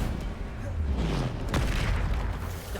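A Bombarda explosion spell fired in Hogwarts Legacy produces a deep booming blast with a sharp burst near the middle, over a low rumbling game soundscape.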